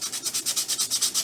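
A rusty hand plane blade rubbed by hand on 120 grit wet-dry sandpaper, about eleven quick, even back-and-forth strokes of close, hissing scraping in a steady rhythm.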